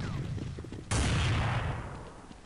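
A single loud gunshot in Counter-Strike 1.6 cracks out suddenly and then decays in a long ringing tail, following quieter background game noise.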